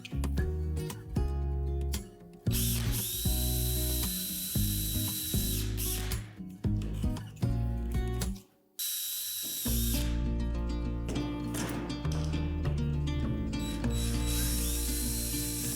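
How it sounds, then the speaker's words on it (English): A power drill drives screws into a plastic shop vac cyclone separator, a loud, continuous whirring and ratcheting that runs in long bursts with a brief pause partway through. "And then we just screw it into place."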